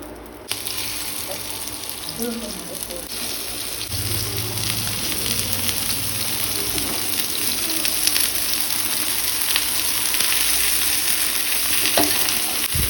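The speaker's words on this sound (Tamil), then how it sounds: "மீன் போட்டு கொஞ்சம் எண்ணெய் அது மேலே ஊற்றி மீடியம் ஃப்ளேமில் வச்சுக்கோங்க" Fish shallow-frying in oil on a hot dosa tawa over a medium flame, with curry leaves in the oil, gives a loud, steady, close sizzle that crackles on without a break.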